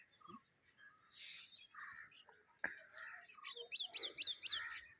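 Birds chirp and call around a hill resort in Vattavada, a mix of separate songbird notes, short whistles and a run of rising chirps near the end, with one sharp knock partway through, in quiet cool morning ambience.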